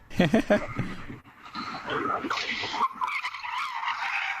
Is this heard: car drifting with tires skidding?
yes